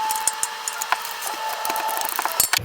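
Ratchet with a 12 mm deep-well socket and short extension loosening the alternator adjuster bolt on a 2010-2011 Kia Soul 2.0L, a rapid run of fine clicking pawl ticks, close and steady with a few louder clacks.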